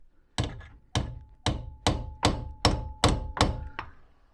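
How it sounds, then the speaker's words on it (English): Eight sharp metallic hammer strikes drift out a gearbox-mount roll pin on a 1989 Austin Mini at a steady, even pace, each ringing briefly, close and fairly loud. "Just trying to swing the hammer without hitting anything."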